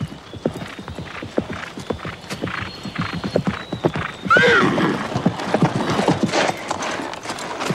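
Hooves pound in a rapid galloping rhythm, and midway a horse lets out a loud, close whinny over the continuing hoofbeats.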